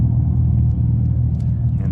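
An electric 2025 Dodge Charger R/T plays its simulated V8 idle through its speakers after a remote start: a loud, steady, deep rumble heard close up with no break.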